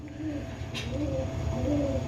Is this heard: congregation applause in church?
no